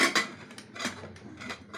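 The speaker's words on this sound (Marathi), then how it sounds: "आणि आता हा कुकर लावून टाकणार आहे" Metal pressure cooker clanks and scrapes against a kitchen stove as it is set down and adjusted, a few close, moderately faint metallic knocks spaced across a short moment with no talking.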